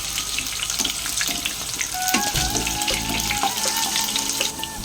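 Potatoes fry in oil in a pan with a loud, steady sizzle that crackles on without a break, close up and with no voices.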